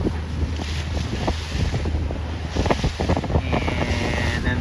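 Strong wind roars across the microphone aboard a C420 sailboat during a breezy practice day, with water slapping and rushing against the hull in uneven gusts throughout.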